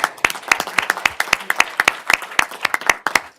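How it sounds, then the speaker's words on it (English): A small group claps for the fire department at a township meeting, distinct individual claps in a lively, uneven rhythm close to the microphone, with no voices over them. "How about the round of applause you promised them to do?"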